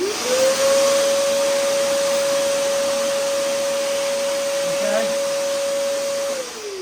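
A vacuum cleaner pulls sanding dust off a car's top, a steady, loud whine starting abruptly and holding level for about six seconds before winding down, with faint handling noises underneath.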